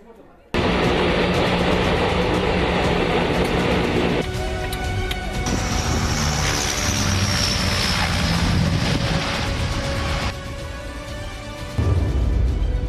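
Loud, steady drone of an AN-32 military transport plane's propeller engines, heard close and continuous throughout, with shifts in tone partway through, with a voice speaking over the engine noise.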